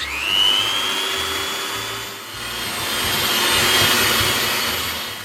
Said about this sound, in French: nous allons faire cette action de blanchir les œufs, alors soit au fouet, soit vous le faites comme moi, avec un batteur